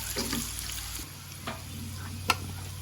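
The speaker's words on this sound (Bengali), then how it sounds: "আমি হচ্ছে এখানে ভালো করে ভেজে নিচ্ছি" Oil sizzles steadily as potatoes fry in a pan, with a few light scrapes and a sharp clink partway through.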